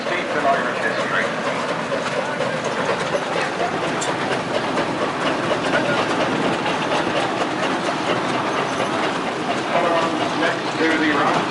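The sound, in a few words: steam traction engine at Moynalty show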